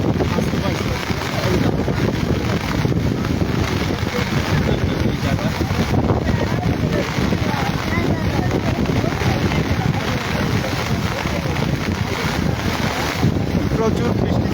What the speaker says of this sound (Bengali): প্রচুর বৃষ্টি পড়তেছে এবং বাতাস